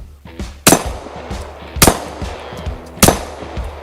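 Three loud, sharp pistol shots fired from a handgun fitted with a CAA MCK micro conversion kit, spaced roughly a second apart, each with a short echoing tail over outdoor range ambience.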